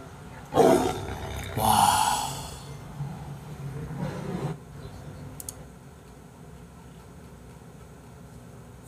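A tiger lets out two deep, powerful roars, followed by a lower rumbling growl, then quiet ambient noise.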